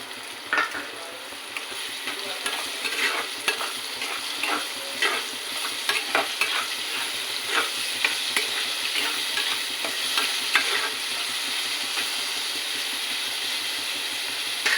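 Cucumber pieces stir-frying in a pan with onions and green chillies for a tomato curry, a steady close sizzle with frequent scraping stirs and clicks throughout, no talking.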